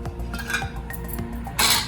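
Maggi omelette mixture with masalas being whisked in a bowl, quick irregular clinks and taps of utensil on the rim with a louder scraping burst at the end.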